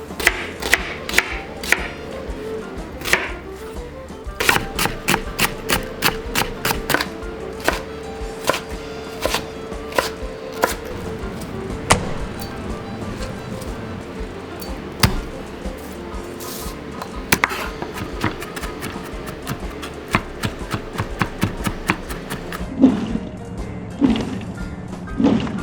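A knife chops bell peppers and onions on a cutting board for shrimp and okra gumbo, sharp rapid knocks in irregular bursts repeating over about half a minute, close and clear.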